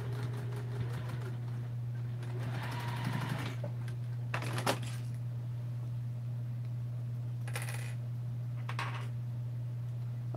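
A sewing machine stitches binding onto a baby gift in short quiet bursts of rapid clatter, with gaps between them. A steady low hum runs underneath the whole time.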